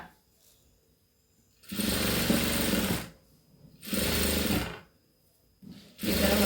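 A sewing machine stitches a cross belt strip onto fabric in three separate bursts, each a loud, close, rapid mechanical chatter lasting about a second or more, with quiet pauses between runs.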